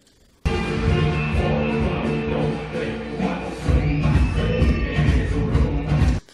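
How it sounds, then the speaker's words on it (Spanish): Disco dance music with a steady bass-heavy beat plays continuously, fairly loud, with a brief dip midway before picking back up. "de una música ambiente de una disco."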